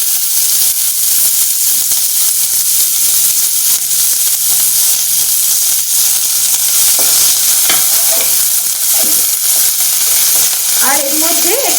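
Chopped onions fry loudly in a hot pan for a Bengali-style pangas fish curry, with a constant close sizzle and hiss and occasional stirring scrapes, and a brief voice heard near the end.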